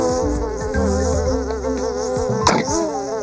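Insects buzz steadily in a dinosaur cartoon, a close, continuous droning whine with wavering pitch and a brief louder swell near the end, with no talking over it.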